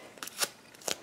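Paper flower petals being curled with a bone folder for a handmade card, giving three short, close crinkly rustles spaced across about a second, with no talking.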